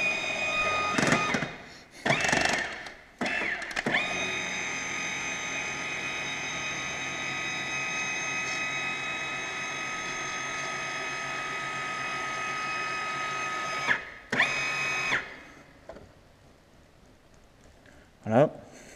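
A Schaublin 13 milling machine cutting steel with an old ARS cutter, a steady whining drone with strong tonal hum, broken by brief louder bursts at the start and again near the end, with quieter rumble trailing off.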